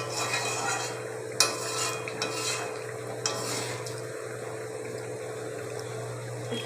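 Chicken kosha is stirred in a pan, a soft sizzle under a steady hum, with several distinct scrapes and clinks of a spatula against the pan.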